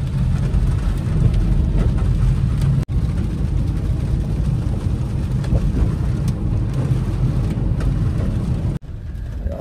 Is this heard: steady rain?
yes